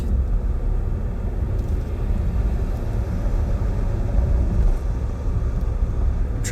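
Truck passing a Jeep, heard from inside the cabin as a steady low rumble that swells slightly mid-pass before easing off, with no one talking.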